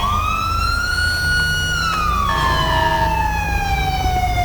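Police car siren in GTA 5 on a Broward County Sheriff patrol: a loud, close wailing siren sweeps up and slowly falls in a continuous tone, over a steady engine rumble, with no talking.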